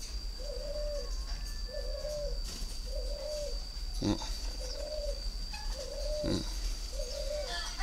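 Spotted doves kept for breeding coo in a slow, regular series of soft hooting phrases, about six over the span, with a steady background hum and a few faint clicks, and no voices.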